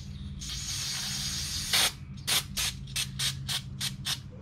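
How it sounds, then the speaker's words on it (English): Aerosol brake cleaner sprayed onto Brembo brake parts on a Miata, one long hiss followed by a rapid run of short, sharp bursts close to the can. "I am going to hit it with a little brake cleaner."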